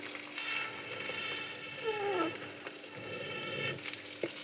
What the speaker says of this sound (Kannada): ಟೊಮೊಟೊ ಹಾಕ್ಕೊಂಡು ಇನ್ನೂ ಸ್ವಲ್ಪ ಫ್ರೈ ಮಾಡಿ ಸರಿಯಾಗಿ.